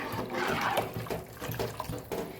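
Water splashes and gurgles as a bowlful is poured in while making banana kadhi, a brief liquid pour, close and moderately quiet.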